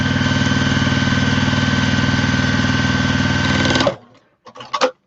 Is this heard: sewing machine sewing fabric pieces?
yes